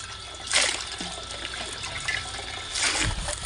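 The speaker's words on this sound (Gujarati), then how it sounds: "નળ આપ્યા છે જો ધીમું ધીમું નળ આવે પાણી" Running water from a tap, a thin steady trickle that swells into two brief stronger gushes, heard close with no voices.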